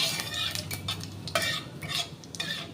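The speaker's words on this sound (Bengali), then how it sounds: "এবারে আমি একটু জিরে দিয়ে দিচ্ছি।" Cumin seeds hit hot oil on a low flame, giving a soft sizzle under a series of quick metallic stirring clinks and scrapes against the pan.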